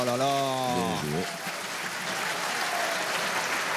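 Audience applause fills a pétanque arena in Fréjus during a Masters semi-final, a dense, steady clatter of clapping that rises just after a brief stretch of voices and then continues loud and even to the end.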